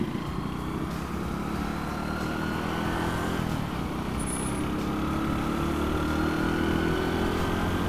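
A Honda Win 100cc motorcycle engine drones steadily while riding, a constant buzzing putter with road noise and no talking.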